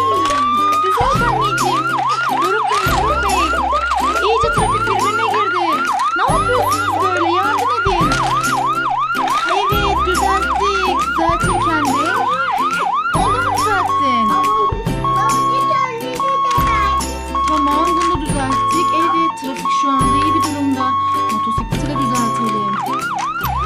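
A toy ambulance siren wails loudly and continuously, first a fast rising-falling whoop, then a steady alternating two-tone pattern, while a child and an adult talk over it.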